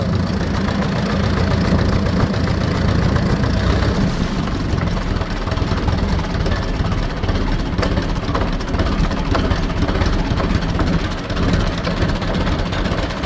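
A tractor engine runs close by with a steady, continuous rumble; it is sticking and will not settle into a proper idle.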